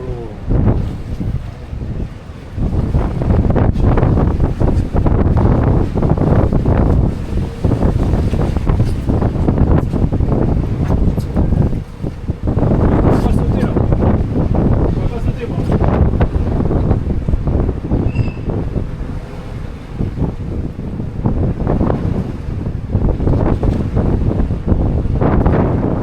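Strong wind at sea on a boat crossing along the Breton coast, roaring and buffeting the microphone loudly and almost without pause, with a surging, gusty rhythm and no voices.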